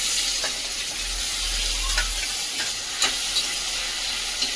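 Chopped tomato frying in a pan with ginger-garlic paste for a homestyle rohu fish curry, a steady close sizzle with occasional stirring scrapes and small pops, no talking.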